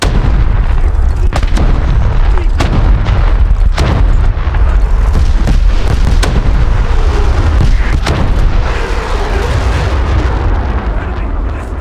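Missile launches and explosions in a submarine video game: loud, dense rumbling with repeated sharp booms and blasts at irregular intervals, sustained and close throughout.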